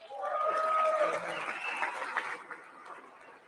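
Crowd applause in the chamber during the State of the Union address, a broad wash of clapping that swells early, then thins and fades.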